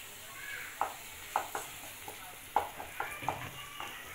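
Crispy garlic potato bites frying in a pan, a faint low sizzle with a handful of sharp light clicks and taps scattered irregularly through it, quiet and close.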